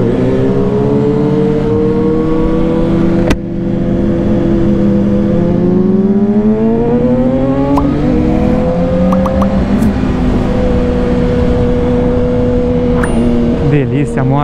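A loud BMW S1000RR motorcycle engine drones steadily throughout while riding, rising and falling in pitch as it accelerates and shifts, with wind rushing over it.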